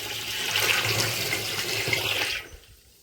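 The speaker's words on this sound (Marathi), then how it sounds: "आणि हे पाणी टाकून घेतो आता" Water gushes steadily into a sprayer tank for mixing pesticide in an orchard, with a full, splashing rush, then fades out quickly near the end.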